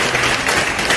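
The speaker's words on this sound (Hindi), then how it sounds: "एक बार तालियों से इनका स्वागत कीजिए" A short burst of dense clapping from a crowd, steady and close, filling the whole moment.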